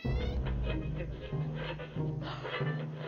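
A cat meows repeatedly in the 60 Seconds survival video game, drawn-out caterwauling calls sounding loud and close with no talk over them.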